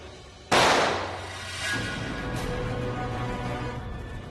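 A single sharp gunshot-like bang in a Telugu TV serial scene, loud and close, with a bright burst that decays into a lingering ringing tail and low background tones.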